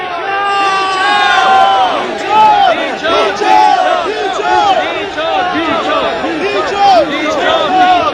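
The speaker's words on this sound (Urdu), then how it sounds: "سامنے سے کھڑی عوام نے ڈی چوک کے نعرے لگا دیے" Large crowd at D Chowk loudly chanting political slogans in unison, rising and falling shouts with rhythmic bursts throughout, dense and close with no pauses.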